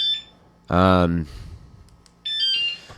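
A folding electric scooter's alarm sounds in short, shrill electronic chirps at the start and end, with a brief voice between them.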